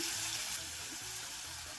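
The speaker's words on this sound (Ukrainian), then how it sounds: "Смажимо овочі на середньому вогні." Vegetables and onion fry in oil over medium heat, giving a steady, close crackling sizzle with no voices.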